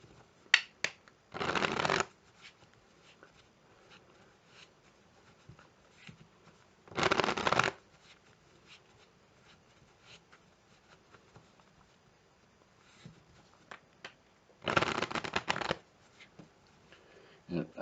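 Playing cards being run through a strip-cut false shuffle, heard as three separate bursts of quick riffling and flapping card noise set apart by quieter stretches of handling and faint shifting sounds.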